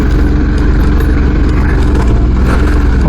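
Africa Twin motorcycle engine labouring steadily up hills on an adventure ride, a continuous dense low drone with wind buffeting across the whole stretch.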